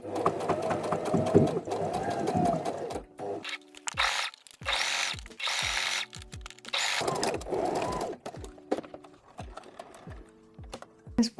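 A sewing machine stitches T-shirt fabric into a halterneck cami, running in short bursts of rapid, steady stitching separated by pauses and small clicks as the work is turned, close and fairly loud.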